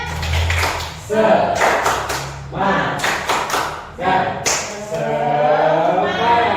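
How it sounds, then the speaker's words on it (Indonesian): A group of teachers in a training session performs the tepuk semangat clap chant, loud rhythmic bursts of claps in set patterns alternating with voices chanting together, close and energetic. "Tepuk semangat"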